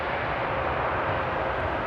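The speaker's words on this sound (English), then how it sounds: "First we have Leave, landing from Zurich." An airliner landing at Frankfurt Airport on a winter morning, arriving from Zurich, gives a steady, loud broadband jet roar that holds unbroken throughout, with no talk over it.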